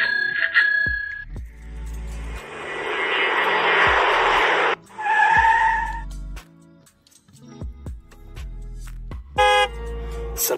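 A series of car sound effects from a mobile video editing app: a short horn toot, a long whooshing engine roar, another horn-like blast, then scattered clicks and a final honk.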